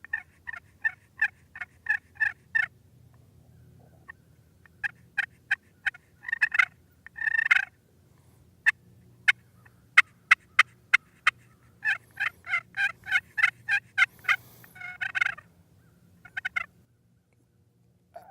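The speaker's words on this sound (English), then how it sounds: "Did you hear it, turkey gobble?" Rapid clucking, yelping calls in short rhythmic bursts, like a turkey call being worked, repeated in groups with pauses, fairly close against a quiet outdoor background.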